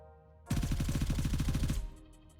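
An M4 rifle fires one fast full-auto burst of about fifteen rounds in Gray Zone Warfare at night. The loud, evenly spaced shots run for just over a second and then stop.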